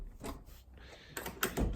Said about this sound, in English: door's locked from the inside, isn't that handy?